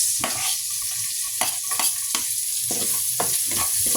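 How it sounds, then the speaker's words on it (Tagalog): Garlic and onion sautéing in a pan, a constant close sizzle broken by repeated sharp scrapes and stirs of the utensil at an irregular rhythm, with no one talking. "Tapos, gisa na natin tong bawang. Kapag okay na, sunod na itong sibuyas."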